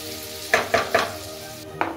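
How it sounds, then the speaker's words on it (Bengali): Onion sizzling in a pan with a little salt, quiet steady frying noise broken by four sharp stirring or scraping bursts spaced about a quarter second apart, then one more after a pause. "ওখানে পেঁয়াজটা ভাজা হচ্ছে"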